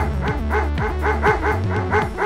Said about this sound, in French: il y a un chien qui s'excite à chaque fois que je passe